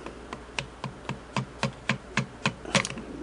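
A nail punch is struck to tap out a stud in the oscillating hook system of a Singer Model 99K sewing machine, giving about eleven sharp, evenly spaced metallic taps that grow slightly louder toward the end.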